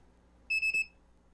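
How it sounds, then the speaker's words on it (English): An Arduino on an e-bike gives a loud, high electronic power-on beep pulsing twice in quick succession, clear against a quiet background. "you get the double beep. It's like super loud."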